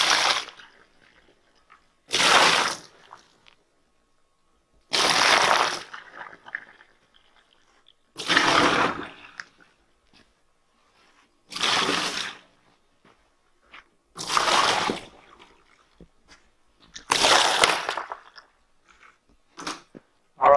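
Water from a small bucket is poured into a dug septic tank hole in seven separate splashing pours, each a couple of seconds long and spaced by quiet pauses, close and clear.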